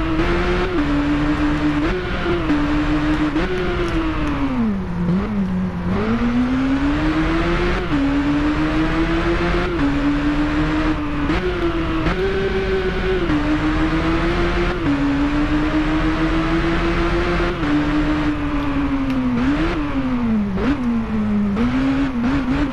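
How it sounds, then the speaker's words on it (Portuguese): A Kawasaki Z800 motorcycle engine in the video game RIDE on PS4 revs continuously, pitch rising and dipping with repeated gear shifts, loud and close with no talking. "vamos curtir um pouquinho o barulho do motor aí"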